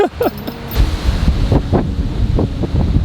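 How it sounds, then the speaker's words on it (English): Strong wind buffeting the microphone at an off-grid jungle home, a loud rushing roar with gusty swells and a brief voice at the start. "This wind's just been ripping."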